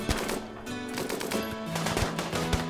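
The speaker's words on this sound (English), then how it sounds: "Twin runs in and knifes the raider, while the colonists shoot down the other one." Rapid bursts of gunfire in the Rimworld video game as colonists shoot down raiders, repeated sharp cracks and stuttering machine-gun-like volleys over a steady background, loud and close.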